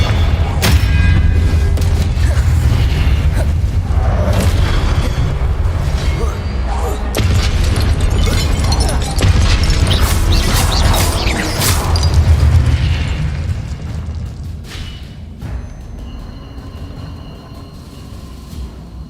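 Confringo spell explosions in Hogwarts Legacy, several loud booming bursts over a dense rumbling game soundscape, fading to quieter ambience toward the end.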